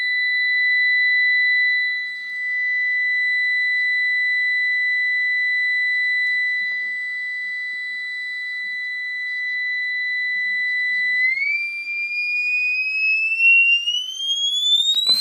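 A steady, pure sine test tone near 2000 hertz holds clear and loud for about eleven seconds, then steps up and glides upward in a rising sweep near the end. No voices are heard.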